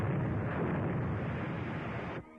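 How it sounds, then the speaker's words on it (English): A 3-inch artillery shell bursts in a 1945 film serial, a loud sustained rumbling roar that holds steady for about two seconds and then cuts off abruptly. "That's a 3-inch shell they're firing at us."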